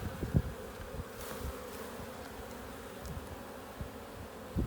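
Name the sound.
honey bees buzzing while shaken into a box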